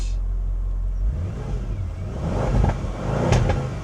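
An Audi RS6 bought as a non-runner starts with a low rumble and then revs a few times in quick blips. The exhaust is near and moderately loud.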